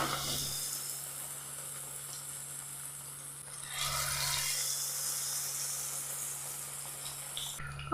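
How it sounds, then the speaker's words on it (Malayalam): Batter-dipped dough drops into hot oil, giving a steady close hiss of frying that swells midway and keeps bubbling with no voices. "മാവിലൊന്ന് മുക്കി ചൂടായ എണ്ണയിലേക്ക് അങ്ങ് ഇടാം"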